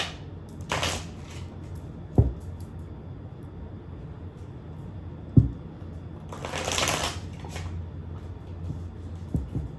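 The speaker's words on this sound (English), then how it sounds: "Let's get one more shuffle." Tarot cards being shuffled by hand make two bursts of crisp riffling, each lasting about a second, with soft taps and knocks of the deck between them. Nearby and moderately quiet.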